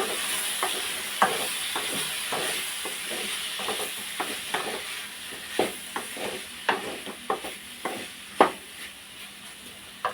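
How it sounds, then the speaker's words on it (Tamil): Pieces of mango sizzle and stir in a hot pan, with repeated scraping and tapping of a spatula at an uneven rhythm, close by. "இந்த மாங்காயை நல்லா வதக்கிக்கோங்க"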